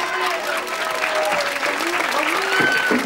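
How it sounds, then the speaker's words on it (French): Audience applause fills a stage event hall, a steady dense clapping wash sustained throughout with faint crowd noise beneath. "Un tonnerre d'applaudissements, s'il vous plaît,"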